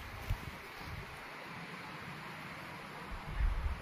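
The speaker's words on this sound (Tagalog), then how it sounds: "Grabe, lakas ng hangin." Steady roaring strong wind atop a mine lookout tower buffets the microphone throughout, a broad rushing noise with a few low thumps of gusts hitting the mic.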